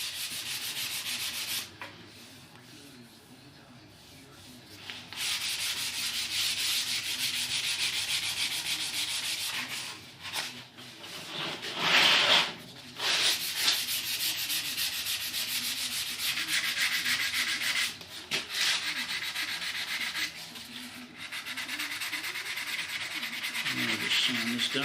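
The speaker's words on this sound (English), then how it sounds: "I'll just sand this down a bit here." Sandpaper rubbing back and forth on the wooden body of a DIY Les Paul guitar kit, steady close scratchy strokes with short breaks between passes.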